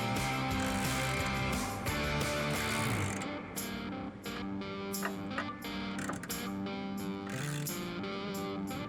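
Bolts being tightened on a Jeep step bracket with a hand tool, quick repeated ratcheting clicks in close, steady runs with brief pauses, no talking.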